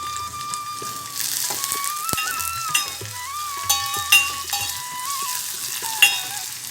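Chopped onion, curry leaves and green chillies sizzle in oil in a pan for mint rasam, a steady close frying hiss broken by light clinks and stirring scrapes, no speech.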